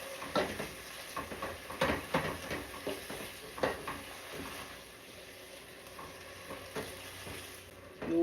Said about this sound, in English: You're gonna keep stirring.